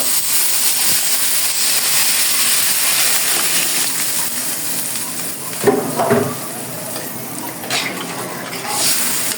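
Steady hissing sizzle from a hot pan as water goes in for a rui fish curry, with a louder burst of sputtering and crackle partway through.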